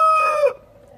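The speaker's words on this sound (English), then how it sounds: "So my rooster is catching up with me again here." A rooster crows loudly and close by on a small community-supported farm, a single strained cock-a-doodle-doo that breaks off abruptly, leaving quiet outdoor background.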